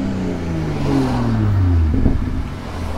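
A BMW M340i with an Active Autowerke exhaust in sport mode revs up and settles, its exhaust note sweeping downward in pitch, loud and close with no talking.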